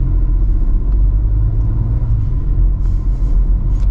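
Hyundai Creta Turbo 2022 pulling away, heard from the cabin as a loud, steady low engine and road rumble with slight swells and faint intermittent clicks, no talking.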